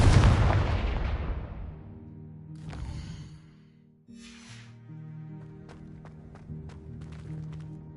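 A Confringo spell explodes in the Hogwarts Legacy video game with a loud, booming blast that decays over a couple of seconds, followed by softer rumbles and clattering effects.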